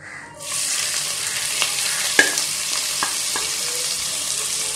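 Two finely chopped onions hit hot oil in a karahi for chicken biryani, bursting into a loud, steady sizzle after a brief quiet start, with a few sharp stirring knocks along the way.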